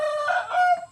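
A startled chicken gives a short, loud squawking cluck up close in its coop, alone with no talk.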